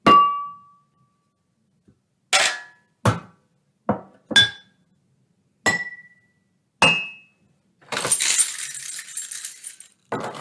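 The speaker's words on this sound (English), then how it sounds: "I've got my cheese grater. And also my bowl." A metal cheese grater and a bowl struck as improvised percussion: several separate clangs and bright rings spaced apart, ending in a longer scraping rasp along the grater, all close and without talk.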